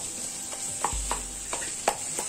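Ground masala spices fry in a pan for a potato bread-roll filling, with a soft steady sizzle under a handful of sharp spoon scrapes and stirs spaced through the moment, close and fairly quiet.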